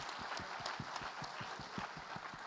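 A church congregation claps along in a fast, even rhythm, dense and steady throughout, heard from within the hall at moderate loudness.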